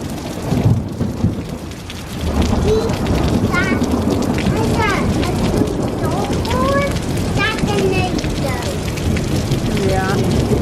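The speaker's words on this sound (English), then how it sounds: "It is raining really good." Heavy rain pours down steadily outdoors in a loud, dense hiss, with distant thunder rumbling at the start and birds chirping faintly through the downpour.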